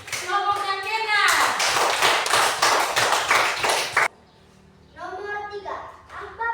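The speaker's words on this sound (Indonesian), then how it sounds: "Tepuk tangan untuk kelompoknya Kenan." A children's class applauds together in a classroom: a few seconds of dense, close clapping, with children's voices speaking before and after.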